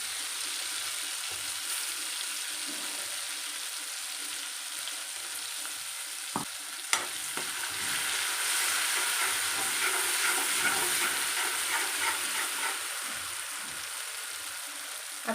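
Spice masala sizzles in oil for tempering a stuffed bitter gourd dish, a steady, fairly quiet frying hiss with a couple of sharp clicks and some light stirring, and no voices.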